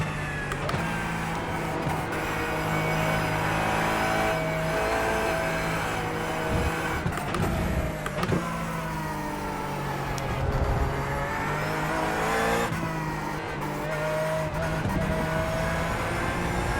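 Race car in a sim racing video game lapping a track with sweeping turns, its engine a steady loud whine that rises and falls as it accelerates and shifts, continuous throughout without speech.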